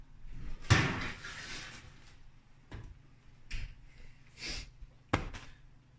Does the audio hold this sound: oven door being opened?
yes